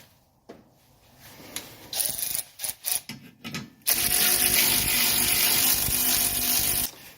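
Ratcheting wrench clicks in short bursts while torquing bolts on the front suspension of a 1984 Mercedes 300CD, followed by a steady louder mechanical whirring, close and without talk.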